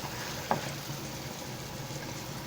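Onion with whole spices such as black pepper, cardamom and bay leaf sautéing in a spoonful of ghee in a pan, a soft steady sizzle with one brief clink of a utensil, close and fairly quiet, no talking.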